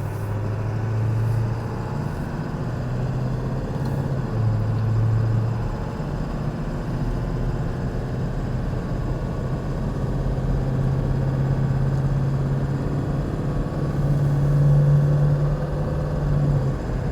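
A stock 2000 Ford Excursion XLT with a 7.3L Powerstroke diesel and 4WD drives on the road, its engine giving a steady low drone with rising pulls under shifts, close and continuous with no talk.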